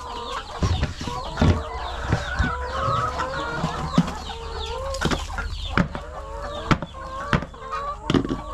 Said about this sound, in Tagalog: Ito natin tong mga manok dito.